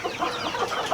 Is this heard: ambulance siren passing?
no